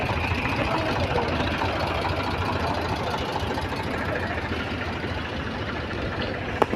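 Tractor engines idle at a busy grain market, a continuous rough diesel chugging with steady knocking, loud and close, no talk over it.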